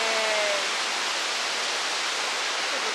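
A waterfall in Hokkaido roars as a steady, dense rush of falling water, loud and unbroken throughout.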